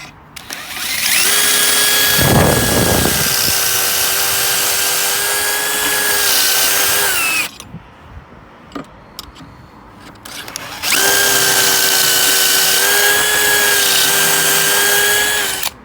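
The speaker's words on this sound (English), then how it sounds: "Got a special stepped drill, goes in there." A power drill with a stepped bit bores into wood in two long, steady whining bursts separated by a brief pause with light clattering.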